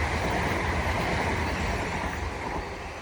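An ex-Great Northern Class 387 electric multiple unit, 387122, rushes past at South Croydon on the Brighton Main Line, a steady loud roar of wheels and rail noise that eases slightly toward the end.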